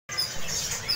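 Male cucak sino birds at the Pramuka bird market give a brief burst of high, bright chirping over a busy market hush, close and clear for about a second.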